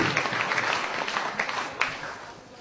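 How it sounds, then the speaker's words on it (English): An audience gives a round of applause for football players who train with the Football Players Association, scattered clapping with a few sharper claps, fading gradually toward the end. "we need to give a big round of applause to all the players who train with FPI and supporting FPI throughout"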